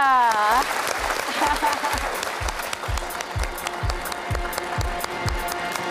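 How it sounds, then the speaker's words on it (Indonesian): Studio audience applause at an Indonesian talk show, a dense steady clapping that fills the whole stretch, with a brief voice or tone at the very start. "Boleh kasih tepuk sekali lagi untuk Mbak Angki."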